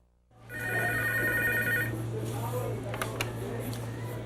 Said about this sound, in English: So what should we do the next time the phone rings?